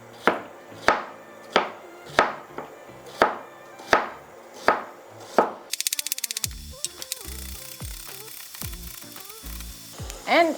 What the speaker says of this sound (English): we're going to just thinly slice our celery